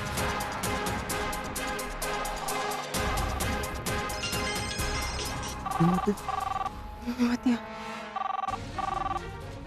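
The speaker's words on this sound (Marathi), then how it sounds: "अरे नाग्या, पिऊ फोन उचलना झाली बघ." A telephone rings in repeated electronic bursts over background music, fairly loud and close.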